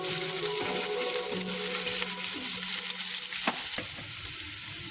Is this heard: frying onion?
yes